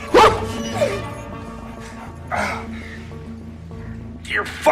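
A dog barks in a few sharp, spaced yelps close by, mixed in among tense talk and background noise.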